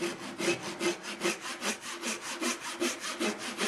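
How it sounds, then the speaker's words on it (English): Rhythmic back-and-forth strokes of a gent saw cutting through wood, about fourteen even rasping passes in quick succession, close and clear with no talking. "Now the saw that we're going to use today is a gent saw."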